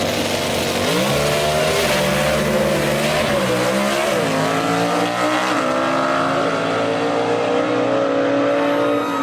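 Gasser drag race cars launch at Union County Dragway, loud engines bellowing and rising through stepped revs in a sustained roar that holds close and dense for several seconds before easing slightly.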